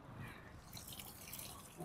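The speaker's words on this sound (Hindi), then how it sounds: "पानी यार बहुत ज़्यादा फ्लो आ रही हो यार" Water flowing from a white marble garden fountain, splashing and dripping in a close, uneven trickle with light spatters over a soft wash, no talking.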